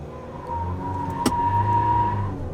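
A JAC T9 pickup truck pulls away hard from a standstill with rear-wheel drive, sport mode on and traction control off, its engine note climbing as a loud, close, steady drone, with one sharp click partway through.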